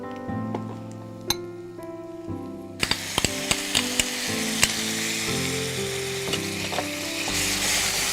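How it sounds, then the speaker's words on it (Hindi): Spices and yogurt frying in a hot pan, with a steady loud sizzle that flares up partway through, and light clinks of a spoon stirring against the pan. "भूनेंगे।"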